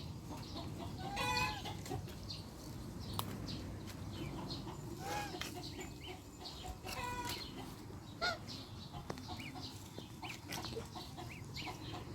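Geese and ducks calling in a noisy farmyard, with repeated honking and clucking cries over a steady background murmur and occasional voices.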